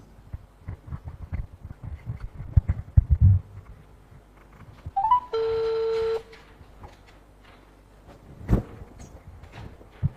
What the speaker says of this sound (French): Et nous lançons le numéro de Koulibaly